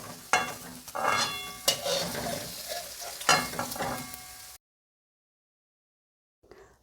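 Paneer frying in oil in a pan, a steady close sizzle with scraping stirs and spatula clinks, cutting to silence before a brief faint return.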